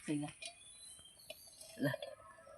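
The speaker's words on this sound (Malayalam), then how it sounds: "ഞാനിതൊന്ന് ഇളക്കി കാണിച്ചു തരാം" A spoon stirs rice payasam in a metal pot, giving a few faint clinks and scrapes at irregular intervals, with brief voice-like sounds in between.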